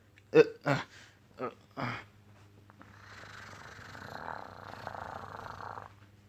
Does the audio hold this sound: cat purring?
yes